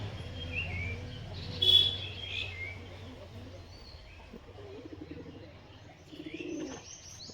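Domestic pigeons let out of their loft give soft, low cooing at close range with a few sharper chirps, one brief louder burst of wing or call activity, and steady background noise.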